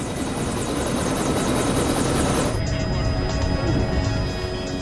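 An army helicopter stripped of its machine guns flies fast, its rotors beating as a loud, steady chop that fills the whole stretch, with the high rattling texture cutting off partway through while the drone carries on.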